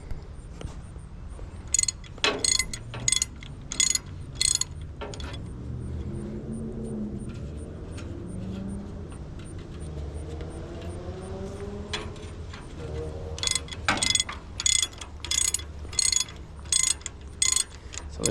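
A ratchet wrench backs fine-threaded bolts off a cultivator for a 2N tractor, giving rapid bursts of clicking near the start and again near the end, with a stretch of low engine-like rumble and possible talk in between.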